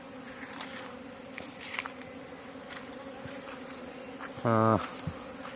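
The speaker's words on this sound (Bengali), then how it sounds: "দেখেন প্রচুর মৌমাছি এখানে," Honey bees buzz around their hive at dusk in hilly country, a continuous close drone with a louder individual bee passing near for a moment toward the end, and no talking.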